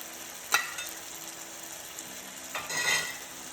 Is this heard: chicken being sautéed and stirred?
yes